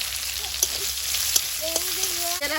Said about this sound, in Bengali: তেলের মধ্যে দিচ্ছি জিরে আর কাঁচা লঙ্কা বাটা